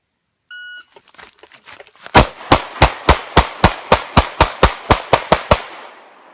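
Pistol fired from concealment on a training range: a short electronic start beep, faint rustling of the draw, then about fourteen sharp, loud shots in an even, rapid rhythm, ending in a ringing tail.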